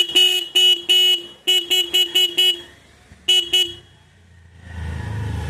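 A motorcycle horn, just rewired, blares in a series of short, loud, close toots of uneven length, followed by a low engine rumble.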